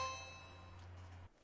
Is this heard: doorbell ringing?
yes